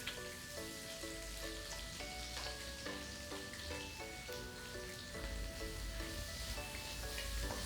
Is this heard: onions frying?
yes